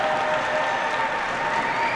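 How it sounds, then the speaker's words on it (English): An arena crowd at the Centene Community Ice Center gives a figure skater a standing ovation during a junior men's free skate, with dense, steady applause and cheering filling the whole stretch, loud and continuous. "Standing ovation all throughout Centene Community Ice Center"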